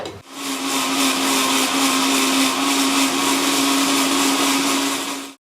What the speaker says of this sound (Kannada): ಇವಾಗ ಮಿಕ್ಸಿ ಜಾರ್ಗೆ ಹಾಕೊಂಡು ರುಬ್ಕೊತೀನಿ